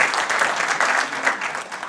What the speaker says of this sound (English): We could give him a big round of applause, everyone.